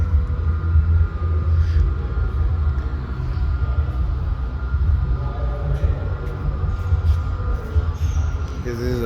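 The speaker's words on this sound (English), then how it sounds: "Little model trains. You got tunnels and everything, look." Steady low rumble of a small model train running along its track through a layout with tunnels, with faint chatter of people in the background at a fairgrounds festival.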